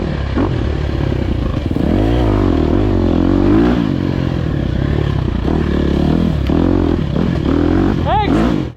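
Enduro motorcycle ridden over slick forest terrain at a Georgia race, its engine droning loudly and steadily with revs rising and falling throughout, plus a brief sharp rev spike near the end.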